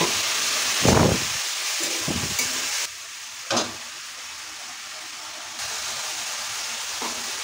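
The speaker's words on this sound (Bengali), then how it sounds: "এগুলা জল দিয়ে তো ভালো করে কষিয়ে নিলাম।" Spice paste for a Bengali mocha prawn ghonto frying in a pan with a little added water, giving a steady hissing sizzle with a few louder bursts of spattering and scraping near the start, no voices.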